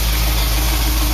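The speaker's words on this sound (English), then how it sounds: "Idle is nice, no misses, nice flat idle, man." A car engine idles smoothly and evenly, a loud, close, steady low rumble with no misses or breaks.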